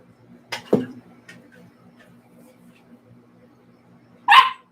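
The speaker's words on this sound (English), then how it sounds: "Stop. No, no bark." A pet dog barks a couple of times close by indoors, with a short sharp bark early on and another burst near the end, set against quiet room tone and faint voices.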